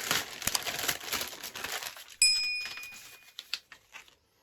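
Someone opens a large plastic parcel bag, producing close, loud crinkling and rustling that builds to a sharp rip and then settles into a few faint rustles.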